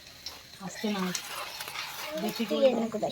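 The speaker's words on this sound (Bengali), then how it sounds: "দুটো তেজপাতা দিয়ে দেবো, একটা শুকনো ঝাল দিয়ে দেবো, একটু নাড়ানাড়ি করবো" Bay leaves and a dried red chili frying in hot oil with five-spice seeds in a pan for khichuri, stirred with a utensil that scrapes and clinks softly against the pan over a light sizzle, with a person talking over it.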